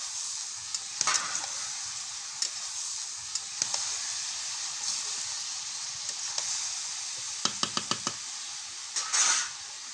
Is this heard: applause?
no